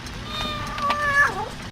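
A cartoon cat in the 3D Pets PC game gives a short, close meow that rises and then slides downward, heard alone over a faint background hum.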